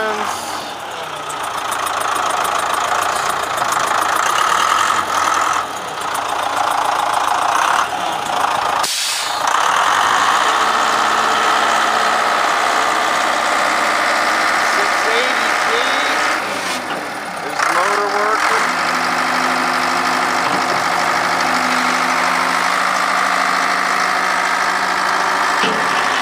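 A 1979 Case 680G backhoe engine runs at a steady idle throughout, a loud continuous mid-range rumble with a brief dip partway and a shift in tone near the end, up close and with no talk over it.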